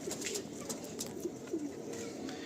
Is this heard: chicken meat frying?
no